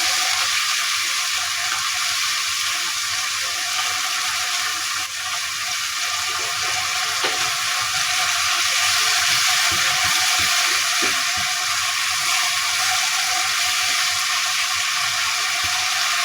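Vegetable fried rice with pepper and soy sauce is stir-fried in a pan over a high gas flame, a loud, steady hiss of sizzling with occasional stirring clatters.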